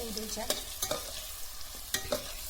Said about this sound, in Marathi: थोड्या तेलात जरी भाजून घेतलं तरी चालतं